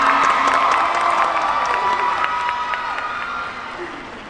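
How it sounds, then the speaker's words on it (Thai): An audience at a family-of-the-year award ceremony applauds and cheers, a dense wash of clapping with some whoops that starts loud and gradually fades. "ขอทุกคนปรบมือให้กับคุณแม่ได้ไหมคะ"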